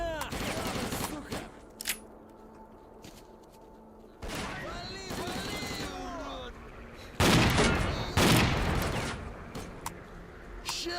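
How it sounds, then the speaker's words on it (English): Enemy gunfire and grenade blasts in S.T.A.L.K.E.R. Clear Sky come in sharp bursts with heavy booms, separated by quieter gaps, while someone talks over parts of the fighting. "they're actually using grenades"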